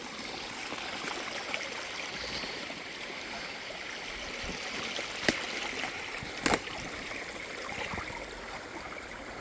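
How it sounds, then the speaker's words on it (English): A small natural waterfall trickles down rocks in the woods, giving a steady, soft wash of running water throughout with a couple of brief sharp knocks partway through. "It's not much of a waterfall, but technically it is the way it trickles down naturally, right?"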